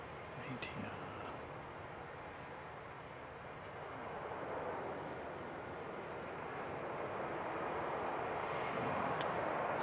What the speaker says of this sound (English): So the ATR will pull up and exit in front of the Jetstar